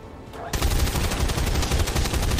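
Soldier firing on a sectopod in XCOM 2, a sudden loud burst of rapid automatic gunfire that starts after a brief quiet moment and rattles on steadily to the end.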